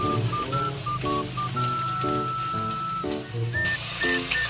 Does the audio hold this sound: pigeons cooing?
no